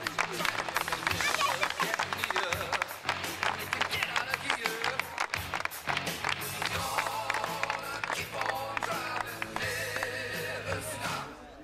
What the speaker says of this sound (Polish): Brawa dla Ani.